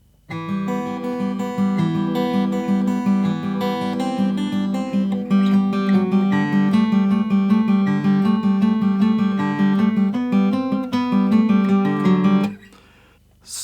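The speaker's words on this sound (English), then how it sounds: "the kind of finger picking guitar part" Finger-picked guitar plays the intro of a song, a clear, steady pattern of plucked notes ringing over a repeating bass line, close and alone, stopping abruptly near the end.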